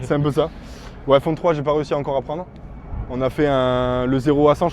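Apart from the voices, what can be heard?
No everyday noises stand out.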